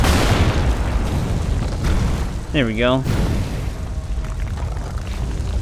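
Bombs explode in the action game Lara Croft and the Guardian of Light, giving loud booming blasts over a dense, steady game soundtrack while someone talks briefly.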